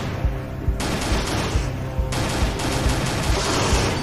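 Rapid automatic gunfire in the shooter Z.O.N.A Shadow of Limansk Redux, a steady stream of close, punchy shots with brief pauses, loud and without talk.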